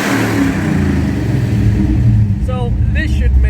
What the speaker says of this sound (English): you open the cutouts and you just dump your exhaust right out of the headers